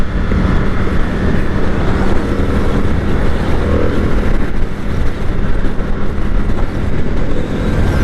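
A 2022 Indian FTR Carbon motorcycle accelerates on the road, its engine a loud, continuous roar mixed with heavy wind rush from close by, with no pause across the stretch.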